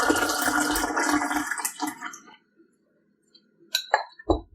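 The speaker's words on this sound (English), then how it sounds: "Pour the tea into a serving cup." Hot masala chai pours into a serving cup, a splashing liquid stream for about two seconds that trails off, followed by a few faint clinks of the cup near the end.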